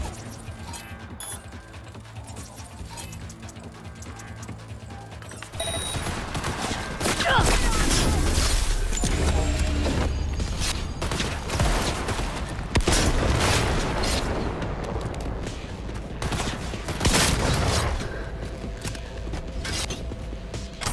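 Heavy gunfire from a powerful weapon in the video game Cyberpunk 2077, loud sustained bursts with booming low end and mechanical clatter, layered over game sounds and music after a quieter opening.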